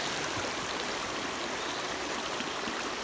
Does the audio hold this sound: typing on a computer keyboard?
no